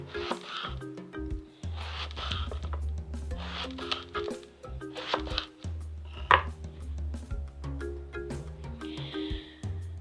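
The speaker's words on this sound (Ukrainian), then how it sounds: "Синенькі нарізаємо кільцями." A knife slicing eggplant into thin rings about 5 mm thick on a cutting board, giving repeated crisp cuts in bursts with brief pauses and an occasional sharper knock, close and moderately loud.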